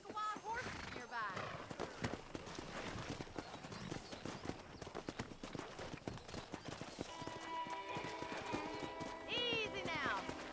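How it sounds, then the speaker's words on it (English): Wild horses galloping with a steady clip-clop of hooves and occasional whinnies in Red Dead Redemption, the herd running close with people talking over the hoofbeats. "That ranch hand said there's a pack of wild horses nearby."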